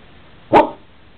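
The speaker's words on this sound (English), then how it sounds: "Do you quiet bark?" A border collie gives a single short, muffled bark, a quiet bark that is close and brief. Low background noise surrounds it and nobody talks.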